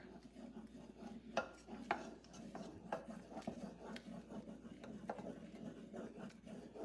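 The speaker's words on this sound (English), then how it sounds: "add the rest, and then just stir" Apple pie filling is stirred in a bowl with a utensil, producing soft scraping and occasional sharper clinks against the bowl, quiet and close with no talking.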